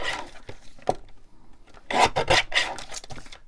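Paper being trimmed for junk journal tags gives a few close, dry rasping and rubbing strokes, a brief sharp snip near the start and a louder burst of scraping cuts toward the end, with no talking.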